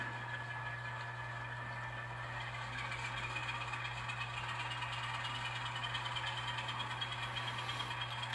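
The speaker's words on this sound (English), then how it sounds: "The engine doesn't move before it revs up." Model train locomotive engine sound from a layout during an operating session, a steady droning hum with a constant low tone and faint rattling texture, rising slightly in level partway through, continuous with no talk.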